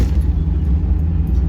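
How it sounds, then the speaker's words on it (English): A Mazda Miata with its stock exhaust rumbles in a steady, fairly loud low idle with no talk over it. "now I am back to having a stock exhaust"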